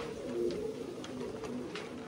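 Domestic pigeons kept at home coo softly, a few low repeated coos over a quiet background with faint rustles.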